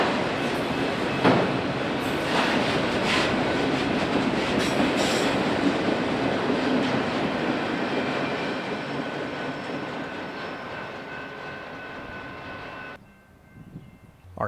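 A Union Pacific freight auto train bound from Brazos, Texas to Yard Center rolls past on Chicago's Joint Line, a loud sustained rumble with clattering wheels and squeals that drops off abruptly near the end.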